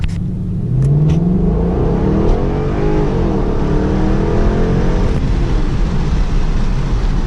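A 2011 Ford Mustang GT 5.0 V8 under hard acceleration, its loud engine droning and climbing in pitch as it revs up through the gears, heard from inside the car with a steady rumble throughout.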